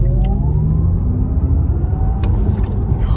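Audi e-tron electric car accelerating hard into traffic, heard from inside as a rising motor whine over heavy road rumble, a few seconds of continuous, fairly loud sound.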